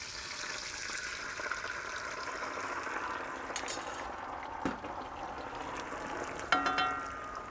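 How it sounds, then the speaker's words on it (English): Spaghetti sauce with added stock simmering in a pan on a gas hob, giving a quiet continuous bubbling sizzle with a few light clinks and taps, and no talk. "And we'll just simmer that away for a little bit till it's a bit more reduced."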